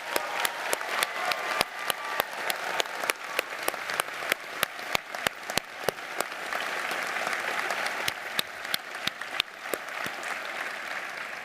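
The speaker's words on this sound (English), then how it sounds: "we'll start off with a big round of applause for all of our students" A graduation ceremony crowd applauds its students, a steady wash of many hands clapping, punctuated by regular sharp close claps standing out above the rest.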